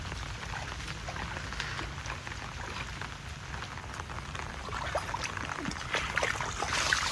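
Water from heavy rain flows over a full dam in a dense, steady patter and rush, broadband and unbroken, growing slightly louder near the end.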